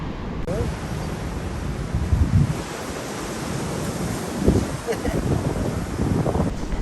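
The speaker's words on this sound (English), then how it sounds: "it's just like a steady wind with an odd gust." Steady wind buffets an outdoor campsite, a continuous broadband rush across the microphone with a few louder gusts swelling through it; a voice speaks briefly over the noise.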